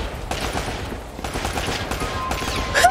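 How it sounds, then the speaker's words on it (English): Enemy gunfire in the game Uncharted: Drake's Fortune, a steady spray of overlapping shots from several guns at mid distance with a louder burst near the end. "They shoot so wildly."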